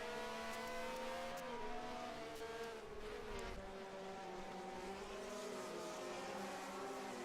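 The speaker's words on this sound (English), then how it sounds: "Another blue car coming up behind him, screaming at him" A 1971 Formula 1 race car's engine screams at high revs, loud and close, with a second car's engine closing in behind at the United States Grand Prix, the pitch shifting slightly as they pass.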